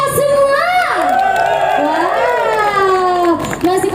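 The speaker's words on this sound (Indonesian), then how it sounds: "tepuk tangan yang meriah untuk kita semua" Concert audience at the Liwa Expo 2022 in Lampung Barat cheering for a dangdut singer's show, a loud, continuous wash of shouts and whoops from a large, near crowd, with voices rising over it.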